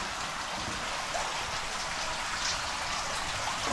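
Steady rain falls outside a flax mill, a continuous close hiss of drops with no pauses or distinct events.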